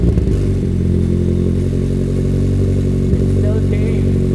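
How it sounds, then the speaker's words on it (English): A Mazda Miata cup car's exhaust idles loudly on a cold start, a deep continuous rumble with slight roughness close to the mic, a voice faintly audible over it. "let's hear a sound clip of this exhaust."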